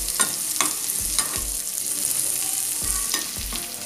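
Oil sizzles steadily in a pan as mustard seeds crackle and pop while tempering for sambar, with a few soft scraping stirs against the pan.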